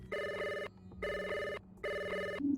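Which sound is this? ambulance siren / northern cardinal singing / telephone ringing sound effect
telephone ringing sound effect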